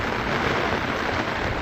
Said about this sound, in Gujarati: અમારે સવારનો વરસાદ ચાલુ થયો હે.